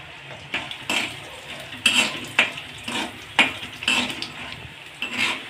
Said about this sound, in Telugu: ఇలా మెల్లగా డీప్ ఫ్రై అనేది చేసుకుంటూ ఉండాలండి.